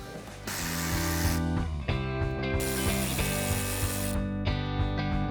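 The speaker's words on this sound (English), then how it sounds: "And next we need to remove these 2 10mm screws." A ratchet backs out 10mm screws from a headlight on a 2018-2023 Ford Mustang, giving loud, close bursts of rapid clicking pawl teeth with brief pauses between runs, no talk.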